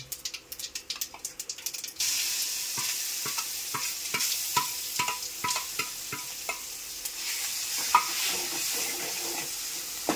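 Curry leaves frying in a pan, a steady crackling sizzle with scattered sharp pops and stirring scrapes, close and fairly quiet, no voices.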